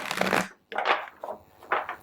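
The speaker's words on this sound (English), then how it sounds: "Check in with your higher self while I'm shuffling" Tarot cards shuffled by hand in several quick, crisp bursts of rustling and riffling, separated by short pauses, close and fairly loud.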